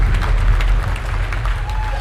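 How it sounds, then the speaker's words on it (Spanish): Crowd at an alt-right event cheering for Richard Spencer, a dense roar of voices with some clapping that runs through the whole moment, loud and close in a packed, sweaty hall. "Vitorean a Richard Spencer"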